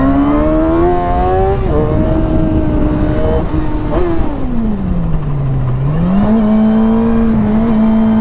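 A motorcycle climbs a hill in a loud, close engine drone whose pitch rises, falls into a long dip, then climbs again as the throttle changes, with continuous wind and rumble underneath.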